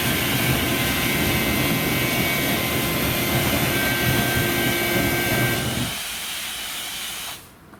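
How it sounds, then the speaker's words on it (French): A fire-training flame tray is lit and burns, giving a loud, steady roaring hiss close by that abruptly weakens near the end and then tapers down. "On va mettre en route le bac à flamme."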